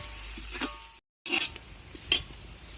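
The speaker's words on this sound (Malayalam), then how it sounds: "അപ്പം ഞാൻ കുറച്ച് പുതിനയും മല്ലിത്തഴയും ഇപ്പോൾ ഇടുന്നുണ്ട്" Mint and coriander leaves sizzle in hot oil in a pot for Ambur chicken dum biryani, a close hiss broken by a short gap, with a few stirring scrapes and spatula clinks over the frying.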